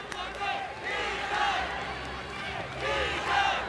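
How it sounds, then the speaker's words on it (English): A large crowd cheers steadily at a men's team gymnastics final at Arrowhead Pond arena, a broad sustained roar swelling twice, with a commentator talking over it. "Lots of support up there in the crowd here at Arrowhead Pond."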